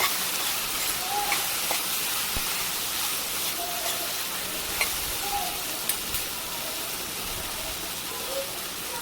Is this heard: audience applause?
no